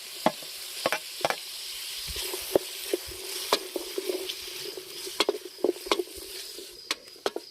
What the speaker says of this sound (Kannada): ಟೊಮೊಟೊನ ಸ್ವಲ್ಪ ಎಣ್ಣೆಲಿ ಬಾಡಿಸ್ಕೋಬೇಕು.